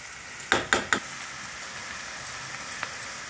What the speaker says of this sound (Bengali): এবার পেঁয়াজটা একটু ভাজা ভাজা হোক